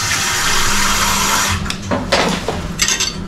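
Water poured steadily into a pan for homemade tocino, a continuous rushing splash for about a second and a half before breaking into shorter uneven pours and trickles, close and fairly loud.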